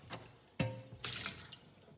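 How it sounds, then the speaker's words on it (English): Running water rinsing the bottom of a cooking pot at a kitchen sink, brief splashing and a clunk of the pot, faint and close. "I'm just gonna give the bottom of the pot a rinse out so it doesn't smell."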